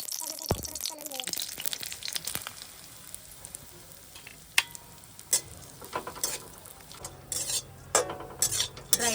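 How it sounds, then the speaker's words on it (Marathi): Dry fruits frying in ghee in a pan while making karanji, giving a faint steady sizzle broken by sharp clinks and scrapes of a spoon against metal, with brief bits of voice. "त्यामध्ये ड्रायफ्रूट तळून घेऊया"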